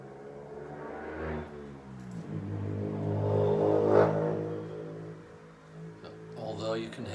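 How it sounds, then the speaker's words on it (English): Road traffic rumbles and swells as vehicles pass, with one car revving louder near the middle, partly under murmured voices. "Although you can hear the traffic, Amanda cannot hear that traffic."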